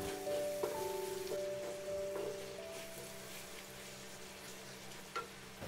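Finely chopped tomato is mixed in a frying pan, giving a faint, soft sizzle with a few light scraping strokes near the start and a steady low hum underneath.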